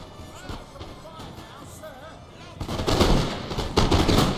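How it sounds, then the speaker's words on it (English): Massed musket volleys in Napoleon Total War, Austria versus Great Britain: scattered distant shots at first, then dense, loud, crackling volleys that build into continuous rolling fire. "See over here, my guys are firing away."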